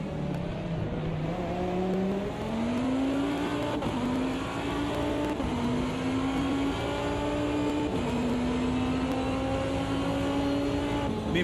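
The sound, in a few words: race car engine revving at Spa, Automobilista 2 video game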